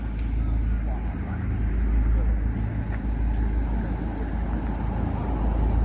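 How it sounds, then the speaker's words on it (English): A steady low engine drone of a tourist boat in Japan rumbles continuously nearby near sunset, with broad background noise and no clear speech. "That is the sound of a boat."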